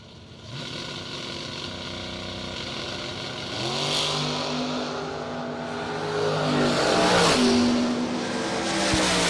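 Two Camaros, one a Camaro Roadster, launching at a drag strip in Cedar Falls, engines roaring and climbing through gear changes from a distance, swelling louder over several seconds.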